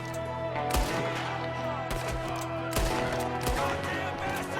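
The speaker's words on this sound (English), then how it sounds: "there's another one shooting from the window" Gunfire in Red Dead Redemption 2 during a shootout with an enemy firing from a window: several sharp, loud shots at irregular intervals over steady game ambience and music.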